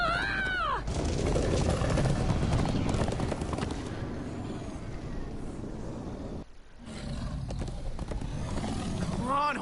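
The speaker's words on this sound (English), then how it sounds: "Come on, horses!" Galloping horses in the video game Minecraft Story Mode: rapid clip-clop hoofbeats with a rising whinny at the start, running under game music and effects, with a short break near the end.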